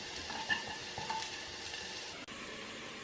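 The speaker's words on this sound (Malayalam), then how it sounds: "അരിഞ്ഞു വെച്ചിരിക്കുന്ന വെളുത്തുള്ളിയും ഇഞ്ചിയും ചേർത്ത് കൊടുക്കാം. ഇതിൻ്റെ പച്ചമണം മാറുന്നിടം വരെ വഴറ്റി കൊടുക്കണം." Chopped garlic and ginger are sautéed with onion in a pan, giving a soft, steady sizzle with occasional light stirring scrapes, fairly quiet and with no talking.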